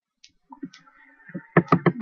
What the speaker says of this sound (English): Click on Chrome.